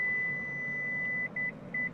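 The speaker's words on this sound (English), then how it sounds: "When you hear the 2 beeps, the operation is complete." A Lexus LX 600 headrest control beeps inside the cabin: one long steady tone followed by two short beeps, clear but fairly soft, with no talk.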